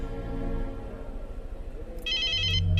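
An electronic phone ringtone chirps in repeated high bursts over a low background hum, starting partway through and growing louder.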